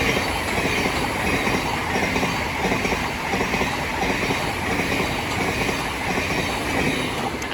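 A Class 700 passenger train passes through Sydenham station on the Brighton Main Line, a steady loud rumble of wheels and carriages with faint rail squeal throughout, no voices.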